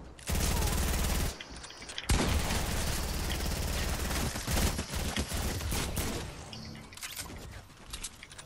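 Dense bursts of gunfire in Fortnite, loud and close, with a brief gap before a second long volley of rapid shots that tapers off toward the end.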